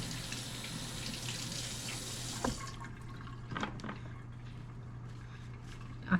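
Tap water runs and splashes over sweet bell peppers in a kitchen sink, a steady stream that stops partway through, followed by faint drips and light handling clatter.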